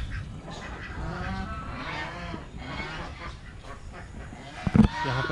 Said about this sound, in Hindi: इधर भी कुछ जीव जंतु पक्षियों की आवाज़ें आ रही हैं। इधर चलिए चलकर देखते हैं कि क्या है इसमें। हंस है, कुछ बतख वगैरह भी है शायद इसमें।